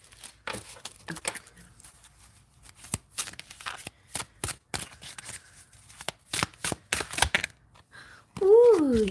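Rapid papery riffling and slapping of tarot cards being shuffled in repeated bursts, close up, ending with a brief spoken voice.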